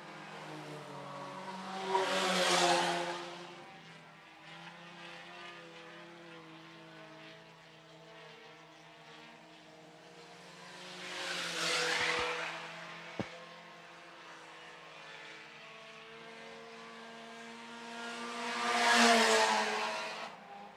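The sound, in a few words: IMCA Sport Compact race cars racing at Phillips County Raceway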